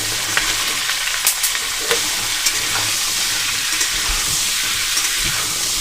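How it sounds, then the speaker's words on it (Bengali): Cut pumpkin and green chillies frying in hot oil, a steady loud sizzle running throughout with scattered sharp clicks and scrapes of stirring in the pan. "এবার আমি কেটে রাখা কুমড়ো আর কাঁচা লঙ্কা এখানে দিয়ে দেবো"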